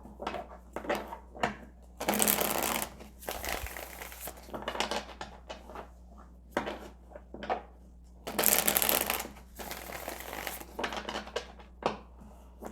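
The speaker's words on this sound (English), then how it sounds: "Let's pull the tarot." Tarot cards being shuffled close up, repeated riffling and sliding bursts in an irregular rhythm, with two longer loud shuffles and no talk.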